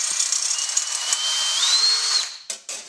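A power drill bores a hole with a number 42 bit while a shift kit goes into a Mitsubishi DSM car, whining steadily and close for about two seconds, then winding down and stopping with brief restarts.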